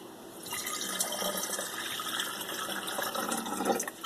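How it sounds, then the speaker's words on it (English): Roughly 300 ml of water pours steadily onto potassium chloride during a bean-plant nitrogen test, a continuous splashing, trickling flow heard close up and alone for a few seconds. "I'm going to add about 300 mils of water."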